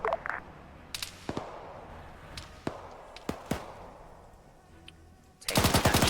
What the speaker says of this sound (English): Taking gunshots.